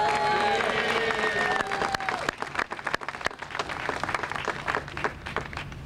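A crowd applauds Representative Calvin Smyre of the Georgia General Assembly at a mayoral re-election announcement. The clapping comes in a steady burst and gradually thins into scattered claps as it dies down.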